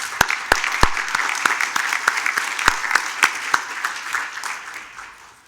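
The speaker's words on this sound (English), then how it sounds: "So can we join in a round of applause to thank them?" A room of symposium attendees at an engineering college gives a round of applause: dense, sharp clapping with a few loud, close claps, fading toward the end.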